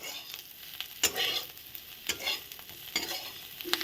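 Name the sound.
stirring cooked filling in a pan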